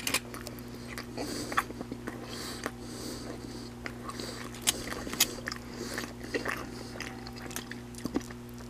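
Buffalo chicken wings being eaten at a restaurant wing night: soft bites and chewing with a few sharp crunchy clicks, close up, over a steady low room hum, with no talking.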